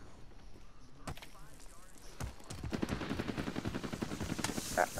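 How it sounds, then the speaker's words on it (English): Warzone gunfire from enemies shooting down from a rooftop, rapid bursts of shots cracking under continuous talk from teammates, growing denser and louder in the second half. "Under fire here. I'm getting shot from above."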